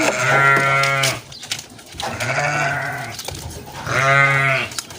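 Noisy livestock in a pen, fed bread, with loud goat- or sheep-like bleats and moos in three long calls, close and overlapping, with no talk.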